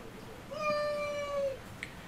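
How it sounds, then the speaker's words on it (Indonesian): A single cat meows once, a drawn-out mid-pitched cry with a clear harmonic tone, heard alone at moderate distance over a faint room hiss, followed by a brief small click. "ada kucing mau loncat tapi nggak berani dia"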